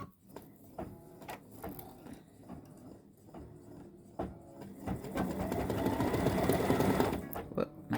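An embroidery machine stitching out a filled Easter gnome design hums and chatters with a steady rapid needle rhythm, growing louder and denser toward the end, heard up close and alone.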